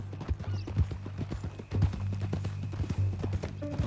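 Horse hooves clip-clopping in Red Dead Redemption 2, a brisk, uneven rhythm of close hoofbeats on firm ground, clear and up front with a faint snort or whinny near the end.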